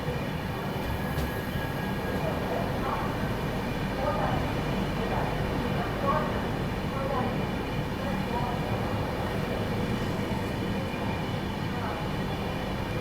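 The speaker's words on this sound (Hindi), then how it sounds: "कानपुर शताब्दी को भी ओवरटेक यहीं पर मार रही है अपनी हावड़ा राजधानी एक्सप्रेस" A Howrah Rajdhani Express rumbles steadily past the Kanpur Shatabdi while overtaking it, a continuous loud rail drone with clattering wheels heard from on board, and a voice talks over the noise.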